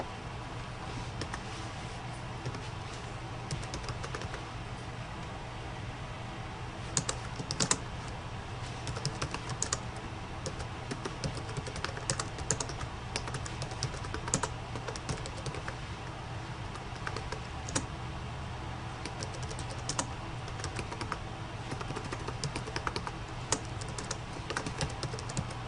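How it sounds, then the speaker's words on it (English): Steady keyboard typing on a computer, a continuous run of soft rapid keystrokes with a few louder taps, close and alone over faint background hiss. "We are going to type in our title."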